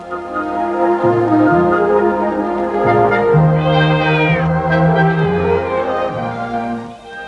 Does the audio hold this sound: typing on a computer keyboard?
no